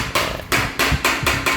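Repeated metal hammer blows on a jeep's dented bumper, five sharp clanging strikes at a steady, fairly quick rhythm, loud and close with no talk.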